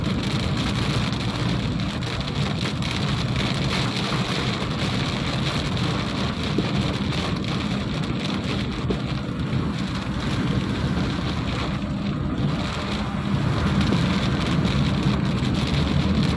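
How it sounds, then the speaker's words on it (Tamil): Heavy rain pours steadily and loudly throughout between Namakkal and Salem, India, a dense unbroken hiss with a low rumbling undertone and no voices. "மழை இங்கே செம்ம வேகமாக பெய்யுதுங்க"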